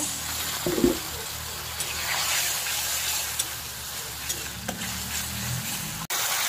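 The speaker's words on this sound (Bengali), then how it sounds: "অল্প অল্প করে জল দিয়ে মশলাটাকে কষে নেব।" Spice paste sizzles and crackles steadily in a hot pan as small splashes of water are added, with a few louder bursts and stirring scrapes over a continuous frying hiss.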